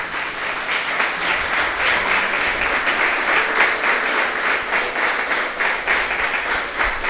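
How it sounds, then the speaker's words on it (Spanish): A church congregation clapping during a worship service, loud and continuous, with a steady, rhythmic texture of many hands over about seven seconds and no voices. "Unas palmas al Señor."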